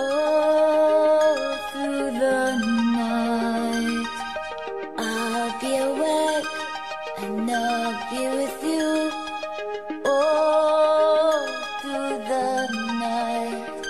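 A song playing on the radio, with melodic instruments and sustained harmonies, continues at steady volume, with brief dips between phrases.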